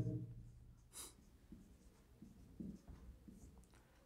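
A pen writes notes quietly on paper during a Hindi political science lecture, soft scratchy strokes coming in short, irregular bursts at close range.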